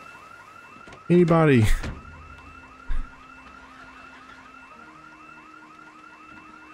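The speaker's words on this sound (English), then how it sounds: "That's two alarms on two houses!" Two house alarms in the zombie survival game Project Zomboid ring in a steady repeating electronic warble throughout, with a loud shouted call over it and a later thump.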